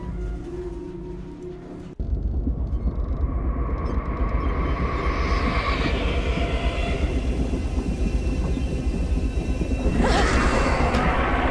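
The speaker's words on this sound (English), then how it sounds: "Oh no, our son has been taken away on this train." A train rumbles steadily in the video game A Mother's Inferno, starting abruptly after a quieter opening and rolling on loud and continuous, with a brighter surge of noise near the end.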